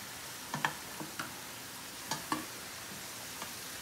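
Plantain slices fry in oil, giving a faint, steady sizzle broken by a few soft clicks and taps of stirring, close by and without talk.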